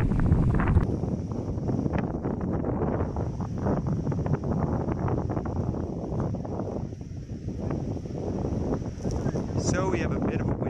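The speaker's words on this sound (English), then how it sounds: "we have some very strong wind right now" Strong wind gusting outdoors in Manhattan, New York, buffeting the microphone with a loud, continuous roar, while someone talks through it.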